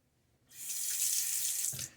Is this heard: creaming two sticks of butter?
no